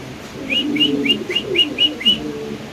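Spanish pigeons coo in a close series of about seven short, evenly spaced calls. Each call has a rising, whistle-like quality. A faint low murmur sits underneath.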